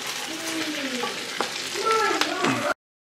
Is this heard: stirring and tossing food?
yes